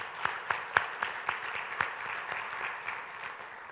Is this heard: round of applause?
yes